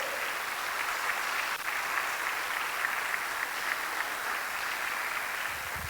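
A church congregation applauds strongly for Christ, with dense, steady clapping from many hands filling the space for the whole stretch.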